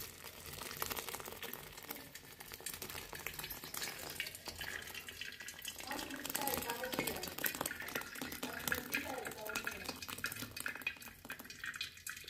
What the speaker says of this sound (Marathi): आता जे दूध फाटलेले आहे ते आता आपण त्यात ओतून घेऊया